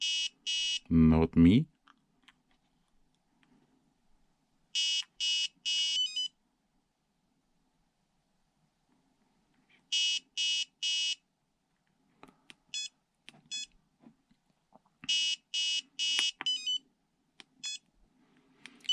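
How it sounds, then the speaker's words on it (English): A Flysky FS-G7P car/boat/tank radio transmitter sounds its low-voltage alarm, clear bursts of rapid high beeps repeating roughly every five seconds. A brief spoken remark comes early, and quiet clicks of handling fall between the beeps. "I want a low voltage alarm."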